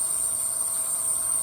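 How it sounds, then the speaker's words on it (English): A steady, high-pitched whistle of high-pressure superheated gas hissing through a faulty Scotsman ice machine's hot gas line into the low side, continuous and unwavering, over a faint mechanical hum. "That's the sound of really high pressure superheated gas getting back into the low side."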